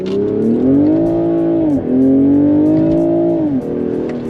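A BMW Z4 sports car's engine revs hard in two long, loud pulls with a brief dip between them, heard close up.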